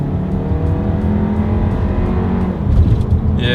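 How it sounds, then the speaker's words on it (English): A 2020 Volkswagen Tiguan with a turbocharged four-cylinder engine accelerates from a rolling start, heard from inside as a loud, steady engine drone climbing in pitch, with a brief surge near the end. "let's see how quickly we can get this new 2020 Volkswagen Tiguan here up to speed"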